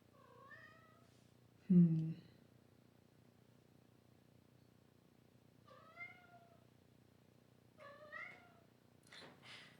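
A house cat meows several times indoors: a sharp, louder cry near the start, then a few softer rising-falling meows spaced apart, fairly close and quiet over a low background hum.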